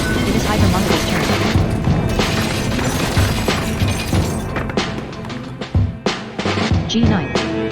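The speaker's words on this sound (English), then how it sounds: "Hypermon DVOL fires a torpedo at E9." Torpedo hits in a battleship board game play as loud crashing, shattering booms, with a run of sharp impacts and clattering debris over several seconds.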